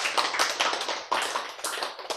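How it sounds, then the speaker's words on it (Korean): An audience at a Bible lecture claps together, giving a close, loud burst of dense hand claps that holds steady for a couple of seconds with slight surges and no talking. "근데 일단 박수 한번 쳐야지."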